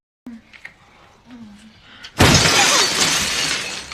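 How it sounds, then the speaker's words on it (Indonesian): A stone thrown through a window at a celebration smashes the glass in a loud, sudden crash that rings on with scattering shards, following a stretch of quieter talk. "Hajatan pun bubar saat Ken melempar jendela pakai batu."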